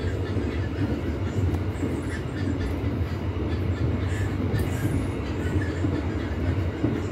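Tegal Bahari passenger train heard from inside a carriage running at 70-80 km/h, with a steady loud rumble and wheel noise throughout and faint high squeals.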